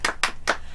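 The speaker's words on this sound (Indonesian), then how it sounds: "Kita mau tepuk semangat dulu Kak ya." Three sharp hand claps in a quick, even rhythm, fairly close, with no talking.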